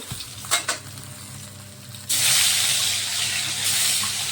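Rohu fish pieces frying in hot oil, with a few knocks at first, then a loud steady sizzle that swells abruptly and holds strong to the end.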